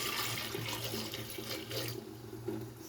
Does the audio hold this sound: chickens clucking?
no